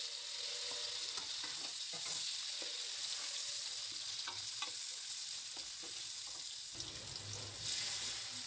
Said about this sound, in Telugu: అల్లం వెల్లుల్లి పేస్ట్ వేసుకొని పచ్చివాసన పోయే వరకు ఫ్రై చేసుకోవాలి